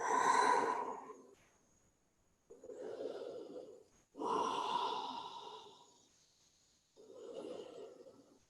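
Deep, slow breaths drawn in and let out during a yoga child's pose, four or so unhurried inhale-exhale swells heard close up in an otherwise quiet room.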